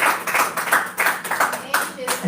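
A congregation during a Portuguese-language sermon claps in a fast, slightly uneven rhythm, loud and close, with faint voices underneath.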